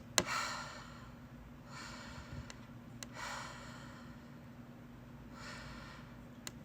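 Slow breaths in and out, close and quiet, repeat in a steady rhythm of about three cycles with faint clicks between them, and no talk over them.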